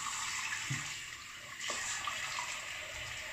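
Running cold tap water flows steadily with a couple of soft splashes as hands scoop it to wash a face, quiet and close.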